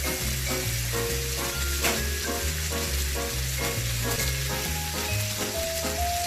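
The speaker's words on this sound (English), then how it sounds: "So we're going to saute these." Greens sauté in a pan alongside steak drippings, a loud close sizzle with rhythmic stirring scrapes running steadily throughout and no talking.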